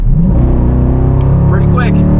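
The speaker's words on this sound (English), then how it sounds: "I'm going to floor it, and we're going to test the responsiveness of the transmission" A 2022 Dodge Durango SRT floored from about 40 mph, its engine roaring loud and steady up close with a rising pitch that climbs and then settles as the transmission upshifts.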